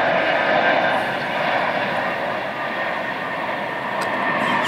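Low, steady roar of an airplane passing overhead, droning continuously throughout with a slight dip and swell in loudness.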